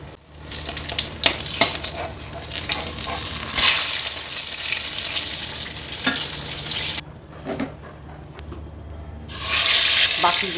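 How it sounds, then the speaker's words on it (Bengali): Pointed gourd (potol) slices frying in hot oil in a home kitchen, a steady loud sizzle with scattered clatter and stirring, one short quieter gap before the frying noise swells again. "বাকিগুলো এইভাবে ভেজে নেব"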